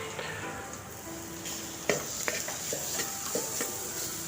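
Onions stirred in a pan as they brown, quiet background sizzle broken by several sharp spatula scrapes and taps against the metal, close up.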